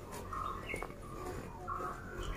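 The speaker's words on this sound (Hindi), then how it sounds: "अलग अलग तरह के पंछियों की आवाज़ें मुझे बहुत सुनना पसंद है" Birds call at a resort in Madikeri, Coorg around sunset, with a few brief chirps and coos standing out over a steady low outdoor hum, faint and somewhat distant.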